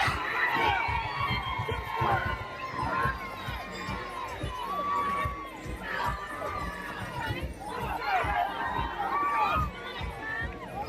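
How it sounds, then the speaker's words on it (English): A crowd at an HBCU marching band performance cheers wildly during a drum major routine, a loud, continuous roar of shouting, screaming voices and chatter that swells and dips throughout. "The crowd's just going nuts."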